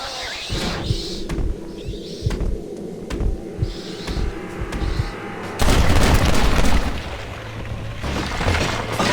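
Gunfire and booming shots in the video game Red Dead Redemption: Undead Nightmare, scattered reports over a noisy outdoor battle that swells into a louder, denser volley near the end.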